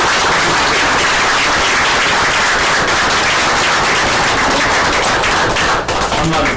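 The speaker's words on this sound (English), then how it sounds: "I hope everyone will join me in a big round of applause." Dense, steady applause from an audience at a town council meeting honoring a 25-year employee, a continuous loud wash of clapping hands with no pauses.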